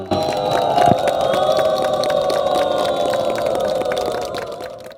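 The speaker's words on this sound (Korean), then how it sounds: "봉축탑에 빛이 나자 참석자들의 박수와 환호가 터져나옵니다" Crowd applause and cheers at a Buddhist lantern-tower lighting ceremony for journalists, a continuous wash of clapping and cheering lasting several seconds, with festive music and chimes underneath.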